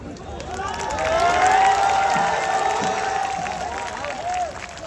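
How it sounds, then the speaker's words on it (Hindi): An audience at an All India Mushaira in Mumbra, Thane applauds to welcome a poet to the dais, a steady roar of clapping and crowd cheering with a voice ringing over the hall. "जोरदार तालियों से अपने महबूब शायर का इस्तकबाल कीजिए।"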